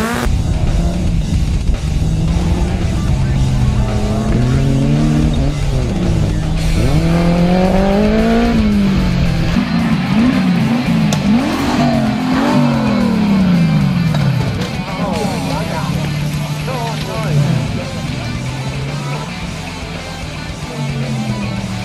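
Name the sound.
1300 Suzuki Sportsman race car driving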